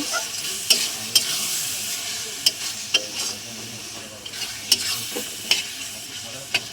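Spice paste for mutton curry being stir-fried in a pan, a steady sizzle under repeated scraping stirs with sharp spoon clicks against the metal, close and continuous.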